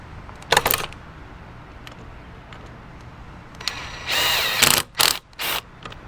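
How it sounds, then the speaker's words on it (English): A power drill driving screws into the wooden frame of a chicken tractor, heard as short loud whirring bursts near the microphone with quiet gaps between them and no voices. "Let me get down here and put some screws in it."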